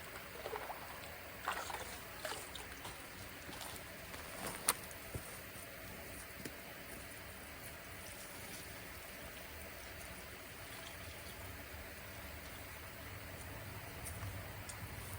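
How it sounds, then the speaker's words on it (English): Water poured from a hose onto tomato plants in a hot garden, a steady, even rushing spray that runs throughout with a few small bumps near the start. "We'll start watering these tomatoes."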